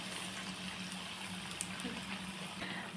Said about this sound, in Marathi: तेल आता गरम झालेलं आहे. आता आपण त्याच्यात कांदा घालून घेऊया